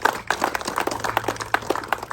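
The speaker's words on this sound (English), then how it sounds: "So let's give Representative Hinson a round of applause." A small crowd gives a round of applause at a ribbon cutting in Gilbertville, with quick, scattered claps close by and steady for a couple of seconds.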